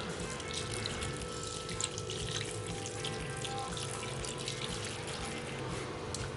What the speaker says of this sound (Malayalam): ഇനി ഇത് വേവാൻ ആവശ്യമായിട്ടുള്ള വെള്ളം ചേർക്കുകയാണ്.